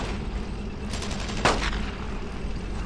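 Gunfire in the World War II shooter Brothers in Arms: Road to Hill 30, during the action at Vierville: a dense, loud rattle of rifle and machine-gun shots with one sharper crack standing out over constant battle noise.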